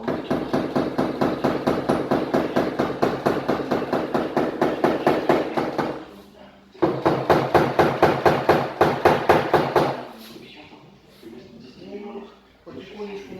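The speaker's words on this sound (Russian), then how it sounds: "Поработали крючком, работали молотком и забиваем." A small hammer taps out a car body dent during paintless dent repair, a fast, steady run of light metallic knocks that stops briefly, resumes, then gives way to quieter sounds with voices faintly present.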